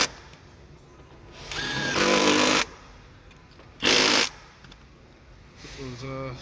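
A power driver puts screws back into a Hyundai car seat. Two bursts of whirring drive are heard, one longer and one short, with quiet gaps between them and a short buzzing start near the end.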